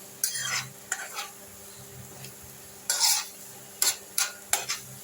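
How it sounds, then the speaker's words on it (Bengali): Grated cauliflower frying in melted butter, a low sizzle broken by several sharp bursts of spatula scraping and stirring, close and intermittent, without talk. "দিয়ে আমি এটা বাটারের মধ্যে ভেজে নিচ্ছি"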